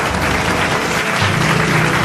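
Applause at a virtual elementary school completion ceremony, a steady dense wash of clapping lasting the whole moment, fairly loud, with a low tonal hum underneath and no talking.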